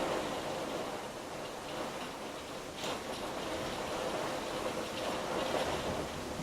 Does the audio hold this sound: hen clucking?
no